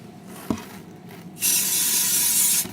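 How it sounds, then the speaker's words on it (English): After a faint knock, a spray can lets out a strong, close hiss for just over a second before cutting off. "I spray I shake my paint"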